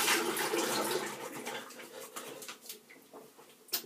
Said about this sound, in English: just rinse my face and I'll be back